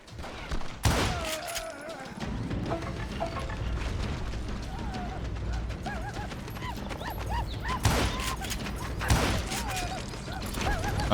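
Gunfire in the Western shooter Call of Juarez: Gunslinger, with several sharp shots standing out over a busy, noisy game mix and mechanical clatter, the shots spread across the clip.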